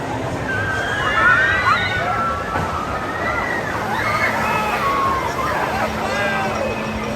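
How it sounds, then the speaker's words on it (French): Water sloshes and splashes continuously as people spray each other with water jets at an amusement park in Montreal, with a babble of voices and shouts mixed through the wet rushing noise. "mais les gens s'arrosent entre eux"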